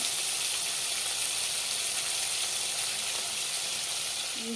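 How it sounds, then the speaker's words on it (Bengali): Tilapia fish frying in oil in a wok gives a steady, dense sizzle and hiss throughout, with no voices. "বন্ধুরা দেখো মাছ ভাজার জন্য বসিয়ে দিলাম"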